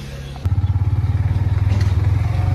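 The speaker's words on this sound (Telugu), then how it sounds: "బైక్లో అయితే వెళ్తున్నాం అనమాట." A motorcycle engine chugs steadily at close range with a rhythmic low pulsing, starting abruptly after a brief quiet moment, as the bike rides through the Araku hills.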